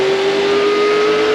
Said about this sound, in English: Short track racing on the High Bank quarter mile of Thunder Road.